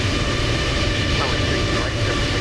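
An airliner throttling up for takeoff in Microsoft Flight Simulator 2020, a loud, steady jet engine roar with broad rumble and whine, while a radio voice speaks over it.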